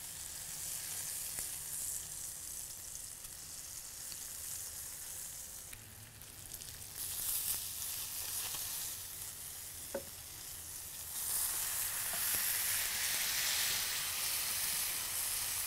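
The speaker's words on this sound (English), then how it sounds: "while the bacon's cooking away, we're going to go ahead and get those bison patties down" Bacon and bison patties sizzling in clarified butter in a hot pan, a steady close hiss of frying that swells louder as the patties go down, with a few clinks of utensils and no talking.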